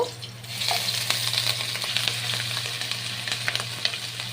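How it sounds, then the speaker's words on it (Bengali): Green chillies and ginger paste fry in hot mustard oil for a Bengali hilsa dish, giving a loud, continuous crackling sizzle close by, with a steady low hum underneath and no voices. "তেলটা আমার গরম হয়ে গেছে। আমি 2টো কাঁচা লঙ্কা দিয়েছি ফোড়ন হিসাবে।"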